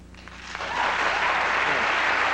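A television talk show audience bursts into scattered clapping that swells after a quiet moment and holds as a steady, moderate patter of applause.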